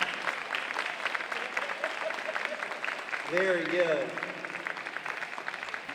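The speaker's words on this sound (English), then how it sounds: "Give them a round of applause or a high" A group at a college exercise session breaks into applause after finishing a drill, a brisk, steady clatter of clapping hands with a voice speaking briefly over it and a short cheer-like vocal rising partway through.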